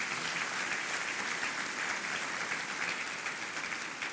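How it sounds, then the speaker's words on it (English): Steady, even applause from a crowd at a mayor's business luncheon, continuous clapping at moderate distance with no break. "Let's give yourselves a round of applause."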